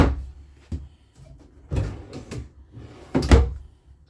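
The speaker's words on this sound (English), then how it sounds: "2 big drawers underneath the bed." Two large storage drawers beneath the bed in a 2022 East to West Ahara 325RL travel trailer slide open and shut, giving several close, dull wooden thumps and rolling knocks spaced irregularly, with no talking.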